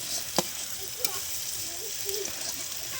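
Garlic and onion paste frying in a pan, a quiet steady sizzle with a couple of sharp clicks of utensils, no talking.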